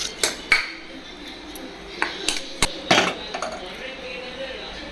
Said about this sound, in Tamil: இதில் நம்ம தாளித்து வச்சதை சேர்த்துப்போம்